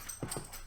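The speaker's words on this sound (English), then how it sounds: "there's a dog in the background" A dog whimpers in the background of a podcast recording, two short soft whines close together, faint against room noise, with no talking.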